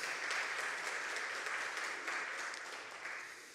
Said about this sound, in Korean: 격려의 박수 한번 보내주시기 바랍니다